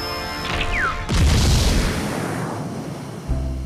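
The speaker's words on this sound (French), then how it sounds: "Tu as fait exploser Protoboy!" A cartoon explosion bursts after a descending whistle, a loud booming blast with a crackling rumble that slowly fades, then a low thud near the end.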